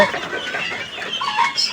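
Thai and Russian breed chickens cluck and chatter close by in a short, busy burst of overlapping calls.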